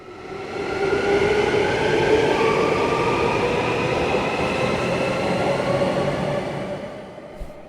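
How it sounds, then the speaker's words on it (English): A train rumbles steadily through an enclosed underground airport station, a broad low roar with faint tonal whine, fading slightly toward the end; no voices. "This is Airport Central Station, the main train station connecting Terminals 1 and 2"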